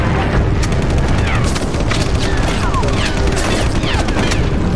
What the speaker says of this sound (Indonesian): Itu suaranya sniper loh